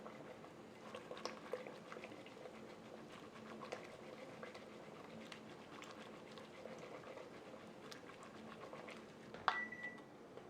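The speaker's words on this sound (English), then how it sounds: "This brine is up to a boil." A pot of salt brine for canning peppers at a rolling boil, giving a steady bubbling patter with small pops, fairly quiet and continuous, and one brief sharp tone near the end.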